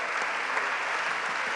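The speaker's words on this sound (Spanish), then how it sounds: "Así que un aplauso, gracias" Steady, dense applause from a forum audience at a human rights conference in Argentina, a continuous wash of many hands clapping with no break.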